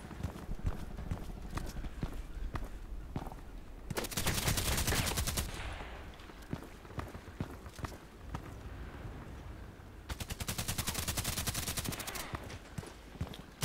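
Rapid automatic gunfire rattles in two long bursts in the online shooter Contract Wars, set against a steady clatter of footsteps and movement.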